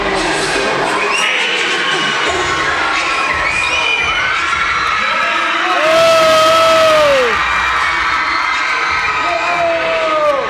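A concert crowd shouts and cheers backstage before a show, a dense roar of voices with whoops and rising yells that swell louder near the middle.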